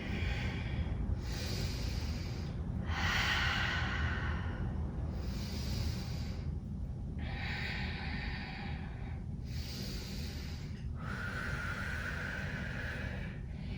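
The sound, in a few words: yoga breathing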